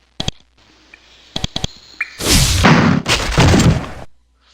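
A fireworks spell cast in the Avernum 3 role-playing game: a few sharp short pops, then a loud, dense crackling burst lasting about two seconds that ends abruptly, with no talking.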